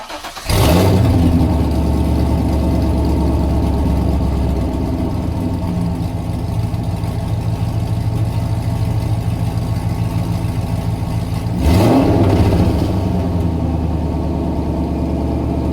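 A C5 Corvette Z06 fitted with a CORSA Extreme exhaust cranks and fires up, settling into a loud, deep, lumpy idle, then a sharp rev blip near the end, close to the car with no talking.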